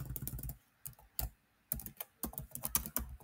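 Computer keyboard typing a command, clusters of quick close key clicks in short bursts separated by brief silences, crisp and alone.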